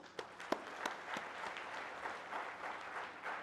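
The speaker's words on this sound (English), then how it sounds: "Let's applaud her for it." Audience applause at a Women, Peace and Security seminar, a steady wash of clapping heard at moderate distance with a few sharper claps standing out near the start.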